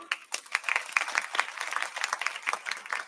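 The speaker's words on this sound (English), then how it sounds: "Now I want all of you to just clap." An audience at a corporate meeting claps on request, a burst of scattered individual claps filling the room for about three seconds, fairly close and uneven in rhythm.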